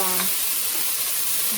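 Garlic sizzles in a hot pan for potato cheese soup, a short burst of steady frying hiss with a brief voice at the start.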